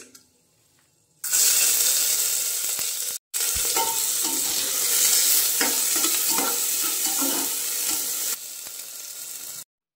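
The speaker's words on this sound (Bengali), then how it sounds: "তেলে দেখো এর মধ্যে একটা এলাচ আর একটুখানি দারচিনি দিয়ে দিলাম।" Cardamom, cinnamon and peppercorns dropped into hot oil in a pan, a sudden loud sizzle bursting in, briefly cutting out, then crackling and spitting steadily before easing slightly toward the end.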